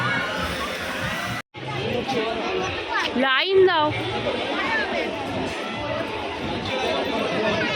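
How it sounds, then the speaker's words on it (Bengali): Dense crowd chatter fills an amusement park during the busy Christmas week, a steady babble of many voices close around with a brief cut near the start; a nearby voice speaks over the hubbub. "এখানেও কিন্তু প্রচণ্ড ভিড়"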